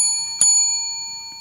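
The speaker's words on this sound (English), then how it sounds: "Candidates will hear a single bell during their response indicating their 15 seconds are almost over." A timer bell at a mayoral forum rings bright and metallic, struck sharply and left to ring with a long sustained decay, then struck again lightly near the end, close and alone.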